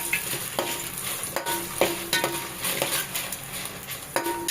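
Lentils, dried red chilies and cumin frying in a pan for tamarind chutney, a continuous sizzle with repeated clinks and scrapes of a metal spoon stirring at an uneven rhythm.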